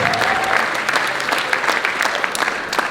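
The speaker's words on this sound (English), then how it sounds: "Even bigger round of applause." Applause fills a spring school concert hall after a raffle prize is donated back, many hands clapping in a busy, steady roar with a few sharper individual claps standing out.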